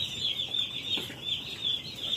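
Chickens cluck and chatter continuously nearby, a busy high-pitched flock with no voices.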